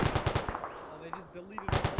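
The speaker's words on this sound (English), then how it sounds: "They're shooting through that tall grass." Bursts of machine gun fire in a World War II style infantry video game, rapid rhythmic volleys at the start and end with a quieter gap between, while distant shots and faint voices carry on underneath.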